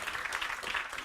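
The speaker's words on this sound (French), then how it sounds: "je crois qu'on peut applaudir nos orateurs aujourd'hui" An audience at a French business panel applauds its speakers, a brief, faint patter of clapping from a room of people.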